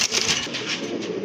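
A pair of Red Bombai pigeons at a loft give soft, throaty coos in short repeated pulses, close and fairly quiet, with no talk over them.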